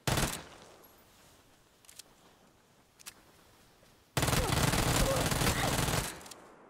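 In PUBG, an Uzi lets off a brief burst, then a few scattered single shots, and finally a loud, sustained automatic stream of about two seconds that cuts off abruptly.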